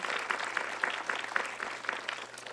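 Conference audience clapping for a fashion and beauty blogger at an LA event, a brief, moderate round of applause from a crowd, somewhat distant and steady, fading slightly toward the end.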